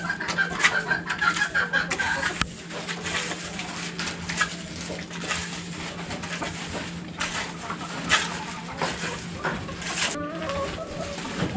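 Bantam chickens cluck and murmur in a backyard flock, soft overlapping calls continuing throughout with steady outdoor background noise.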